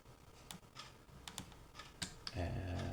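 Computer keyboard typing a cd command, several sharp separate key clicks spaced unevenly, ending with an Enter press, near and fairly quiet, followed by a low hum.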